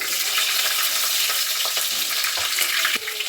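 Mustard seeds, cumin, dried red chillies and green chillies crackle and sizzle loudly in hot oil, a dense, continuous frying hiss with scattered sharp pops, close and steady with no talking.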